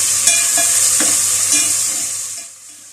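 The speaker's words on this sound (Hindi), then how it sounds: "ये प्याज इसमें डाल देंगे और इसको लाइट गोल्डन होने तक फ्राई कर लेते हैं।" Sliced onion fries in hot oil, a loud steady sizzle close by, broken by a few soft stirring scrapes before it quiets toward the end; no talking.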